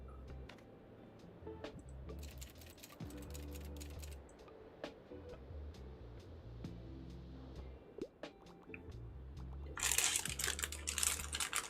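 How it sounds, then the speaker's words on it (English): Typewriter keys in the video game Tiny Bookshop clack in quick, light bursts and scattered single taps over a soft, looping musical background, ending in a denser flurry of strikes. "Get to work on your typewriter and finally start that book you always wanted to write"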